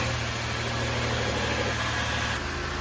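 A car engine idles steadily after a fresh oil change, a continuous low hum with faint vibration that holds an even level throughout, close by with no talking.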